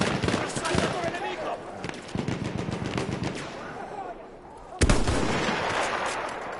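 Rapid automatic gunfire in the video game Battlefield 1, loud bursts of shots with a sharp crack near the end, under excited player talk.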